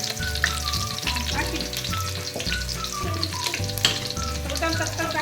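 Onions sizzle in hot oil for a fish curry, a steady close crackle with occasional stirring, heard beneath fairly loud background music.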